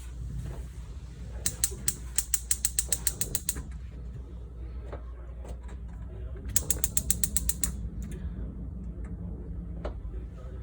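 The knob on the gas stovetop of a 2019 Forest River Cardinal RV is pressed down, and the igniter clicks in two rapid ticking runs over a steady low hum, close by.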